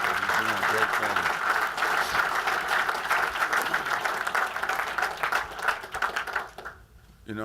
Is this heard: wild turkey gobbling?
no